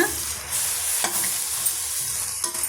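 A tamarind-based okra curry masala with coriander powder sautés in a pan, giving a continuous close sizzle broken by repeated scraping stirs of a spoon against the pan.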